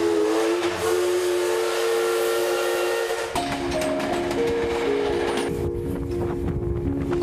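Steam locomotive on a heritage run in Taiwan, giving a long loud whistle blast that shifts pitch midway, over a constant roaring hiss of escaping steam.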